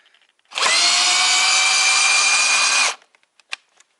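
A cordless power screwdriver, converted from Ni-Cd to Li-ion batteries, runs a screw in a chair for about two and a half seconds with a steady high-pitched motor whine that stops abruptly, followed by a few faint clicks.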